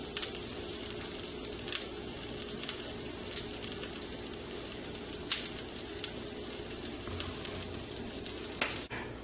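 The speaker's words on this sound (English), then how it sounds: "I'm just going to give it a nice little press down and let that toast on one side" A tuna melt sandwich on rye bread toasting in a hot pan, a soft steady sizzle with a few faint clicks and taps, close and low in level, no voices.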